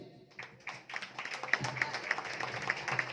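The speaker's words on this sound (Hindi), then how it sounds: "जोरदार तालियां सर के लिए।" Audience at an RCM celebration event in Shirdi breaking into applause, sparse claps at first building into steady clapping with some voices mixed in.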